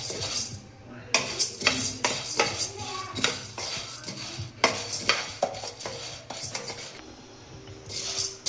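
Green gram dry-roasting in a pan for North Karnataka-style kadle mithai, stirred with a metal spatula: repeated scraping and clinking strokes against the pan in an uneven rhythm, close and fairly loud, with faint sizzling underneath.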